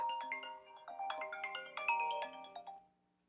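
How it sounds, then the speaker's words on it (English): A phone's melodic ringtone plays a quick sequence of bright electronic notes close by, then cuts off and falls silent. "Sorry about that phone call."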